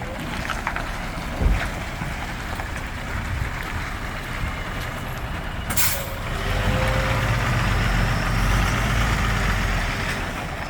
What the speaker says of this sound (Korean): 5톤 차량이 들어오고 있고 쓰리축입니다